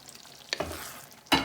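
Mince for spaghetti bolognese cooks over a low flame in a pan, a soft sizzle broken by two sharp scraping stirs of a spoon against the pan.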